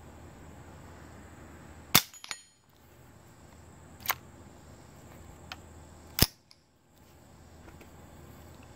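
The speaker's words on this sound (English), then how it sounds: "All you're really hearing is the ding from the steel." Quiet .22 Super Colibri rounds fired from an M&P 15-22 in a backyard, heard as three sharp metallic dings off a steel target spaced about two seconds apart, with a fainter tap between, over low background hiss.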